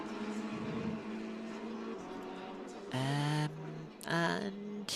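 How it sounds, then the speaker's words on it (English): Ferrari race cars circle the track in Assetto Corsa Competizione during practice at Donington, a steady engine drone punctuated by two louder, rising passes as cars sweep close by. "Can hear the cars going around for the final couple of minutes of practice."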